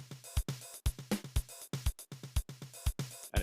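Programmed drum pattern from a track, with bass drum set against the right-hand and left-foot parts: crisp, evenly spaced hits and kick thumps in a quick repeating rhythm, alone and fairly quiet.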